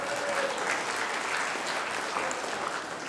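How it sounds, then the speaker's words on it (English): A crowd claps for the committee at a Selous Scouts 50th anniversary and memorial unveiling ceremony, giving steady, full applause that fills the whole moment. "a round of applause for the committee"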